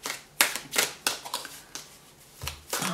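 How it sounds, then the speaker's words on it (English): Oracle cards are given a quick shuffle by hand, a series of crisp riffling bursts and soft slaps in uneven rhythm, close and fairly quiet. "So I'm going to go ahead and give this a quick shuffle."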